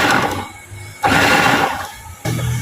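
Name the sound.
food processor pulsing yam for pounded yam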